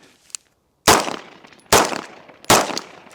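Three loud, close gunshots from a Beretta PX4 handgun fired at a target at seven yards, each a sharp crack with a short decaying tail, spaced under a second apart after a faint click.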